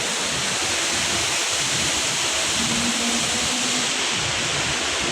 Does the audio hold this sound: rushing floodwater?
yes